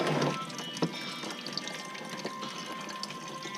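Coolant draining from a hose on a 2014 VW Tiguan during a coolant flush, a faint continuous splashing and trickling of liquid with a few small knocks and clatters, close by and without talk.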